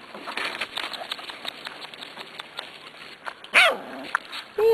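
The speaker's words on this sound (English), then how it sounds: "Jeremy, this is your puppy." Corgi puppy yapping in a home with several short barks and whimpers scattered through steady background noise, then a louder, closer bark near the end.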